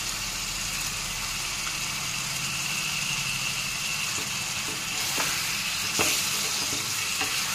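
Pieces of liver sautéing in a pan of spice masala, a steady loud sizzle with occasional scraping knocks of stirring, no voices.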